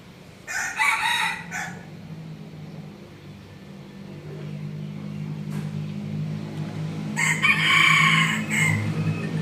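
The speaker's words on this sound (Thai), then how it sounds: "ขันเก่งจริงๆครับ" A rooster crows twice, close and loud, with a long pause between the calls, over a steady low hum of outdoor background noise that resembles a running vehicle.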